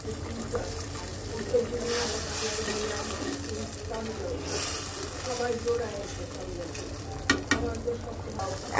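A pot of potato curry with fried fish and ground cumin sizzles softly while a spoon stirs and scrapes, with faint clinks and watery bubbling at low volume.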